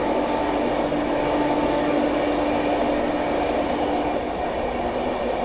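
The Kolkata Duronto Express runs at speed past Tundla, a loud, constant rumbling roar of rails and wheels with brief high squeals of metal, close by and without voices.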